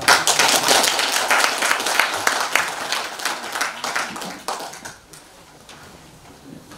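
Audience applause at an academic conference, dense sustained clapping from a seated crowd that thins and fades out over the final seconds.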